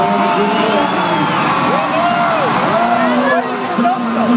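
A loud arena crowd at a Monster Jam monster truck show cheers and whoops steadily throughout, with shouts and voices rising over a constant roar.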